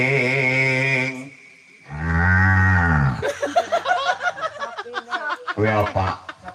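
A cow moos loudly in two long, deep calls close by, followed by people chuckling and talking.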